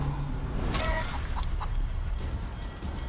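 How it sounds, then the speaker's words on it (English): A chicken in the video game Divinity: Original Sin 2 gives a few short clucks over a steady background hum, fairly close and moderately loud. "Alright, you're a chicken now."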